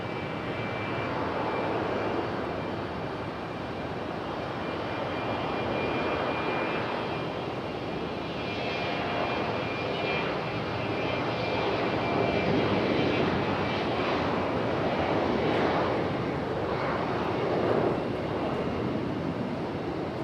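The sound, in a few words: Aeromexico Connect jet aircraft departing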